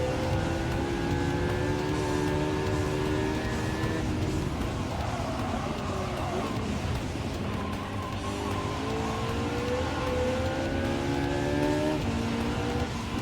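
A McLaren race car's engine in Gran Turismo 7 drones steadily throughout, its pitch climbing and falling through gear changes, loud and continuous with a dense rumbling bed beneath.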